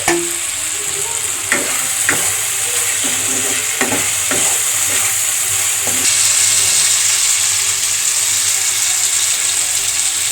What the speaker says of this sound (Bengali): এবার মশলা তো কষাতে কষাতে এবার আগে থেকে যে কিউব পেঁয়াজ আর ক্যাপসিকাম দিয়ে দেবো ভাজা।